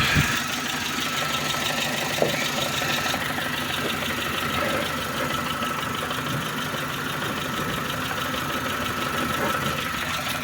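A 2012 Dacia Logan MCV with a 1.6 MPI petrol engine idles under the open bonnet, a steady even hum close by with faint ticking and no talk.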